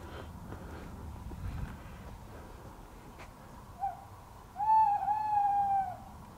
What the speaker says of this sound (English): Who's the owl called Nora?